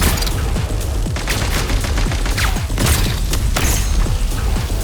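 Grenade explosion and rapid gunfire from the video game Genshin Impact, with dense continuous booms and bursts of shots filling the whole stretch, loud and close with no pauses.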